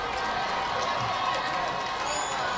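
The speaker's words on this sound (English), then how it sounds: "Morrow crowd is pumping it up" A high school football crowd at Morrow roars steadily from a distance in the closing seconds of a game, a broad wash of cheering and noise with no single voice standing out.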